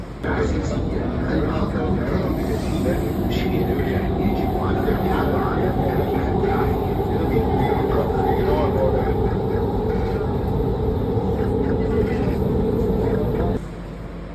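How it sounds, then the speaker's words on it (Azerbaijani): A driverless, automated metro train in Qatar riding along with a steady, loud rumble and hum inside the carriage that drops off near the end, with voices faintly audible in the background. "Metroda, vaqonda maşinist yoxdur."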